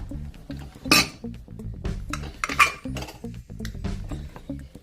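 A lid set onto a cooking pot of chicken masala; a series of close metallic clinks and clanks, with two sharper rattling hits standing out.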